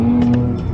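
A Nissan 240SX engine runs for a brief moment, a loud steady low idle hum heard up close with no talking.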